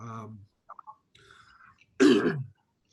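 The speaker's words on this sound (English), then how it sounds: "I got a bit of a cough going on here" A single harsh cough bursts out loud and close, following some brief murmured speech and quiet sounds.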